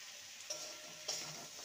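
Thin-sliced potatoes frying in a pan for a poha breakfast dish, a steady close sizzle with a couple of brief scraping stirs.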